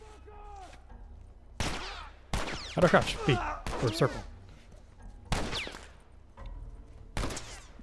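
Gunfire in The Last of Us rings out in several loud bursts of shots mixed with game effects, while a player talks over the action between the volleys.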